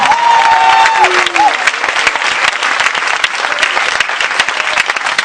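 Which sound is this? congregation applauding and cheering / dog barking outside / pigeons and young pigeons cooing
congregation applauding and cheering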